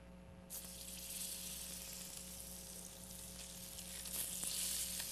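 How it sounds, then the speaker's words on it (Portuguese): Salmon sears in a pan with a little oil, giving a steady, loud sizzle that starts suddenly and hisses on without pause, with no voices over it. "a gente vai iniciar o processo de dourar esse salmão, só com um pouquinho de óleo"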